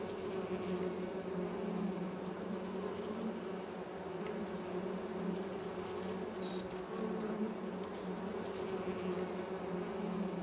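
Bees buzz around a beehive in Farming Simulator 22, making a continuous, faint insect drone with occasional closer flybys rising above the steady hum.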